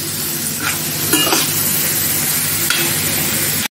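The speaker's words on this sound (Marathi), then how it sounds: "आता टोमॅटो पण मी चांगला परतून घेतलाय" Chopped tomato sizzles steadily in a hot masala base for dhaba-style paneer bhurji, a dense, loud frying hiss with occasional spoon stirs and pan scrapes, heard close up and without talk until it cuts off abruptly.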